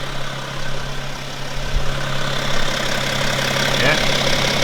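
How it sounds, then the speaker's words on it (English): A BMW E60 535d diesel engine idles steadily at close range, a continuous low hum with a mechanical clatter that holds level throughout. "Okay, Mehmet, you can turn it off."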